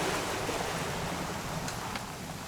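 Steady rain falls in the video game What Remains of Edith Finch, a dense continuous hiss of drops with no distinct rhythm, moderately loud and unbroken, with no voices.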